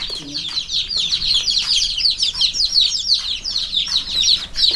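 Many chickens cluck and chirp together in a busy, continuous chorus, fairly close, with no talking.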